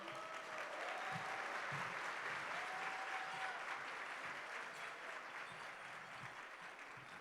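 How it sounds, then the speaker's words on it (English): Room full of people at a bilingual parents' summit gives a round of applause for an introduced guest, continuous dense clapping with a brief whoop or whistle, holding steady and then easing off slightly near the end. "please give a round of applause to Mr. Ronald Preston."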